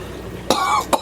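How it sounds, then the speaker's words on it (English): Two short, sharp human coughs, close and fairly loud, spaced about half a second apart, outdoors on a cold day in New Jersey. "Cough, cough, I'm fine."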